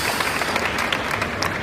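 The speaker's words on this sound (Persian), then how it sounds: "تشویقشون بکنید" An audience applauds a father and son welcomed as guests at a Quran recitation event, producing a steady wash of clapping that holds evenly for the whole short stretch.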